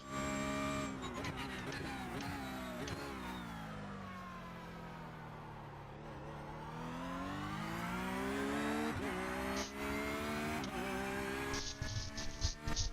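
Race car engine in the iRacing sim, a steady, loud, continuous drone whose harmonic pitch sweeps down and back up across the whole stretch as revs fall and climb, with brief flutters near the end.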